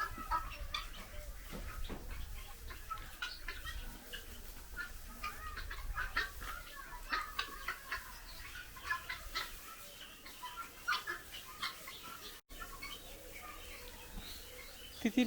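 Guinea fowl on a farm in Tangail keep up repeated clucking, cackling calls, many short notes scattered across the whole stretch at moderate distance over a steady outdoor background.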